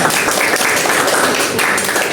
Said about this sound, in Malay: Beri tepukan.